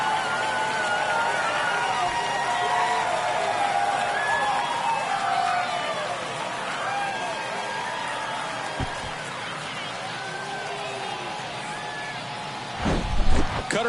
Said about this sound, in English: That fires up the home crowd, and that gives them a lead.